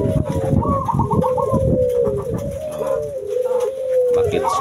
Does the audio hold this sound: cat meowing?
no